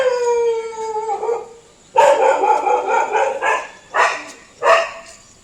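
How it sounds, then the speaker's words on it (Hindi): A dog howls and barks in drawn-out, wavering cries, followed by several separate loud barks with short gaps between them. "तभी ये कुत्ता इतनी देर से भौंक रहा है।"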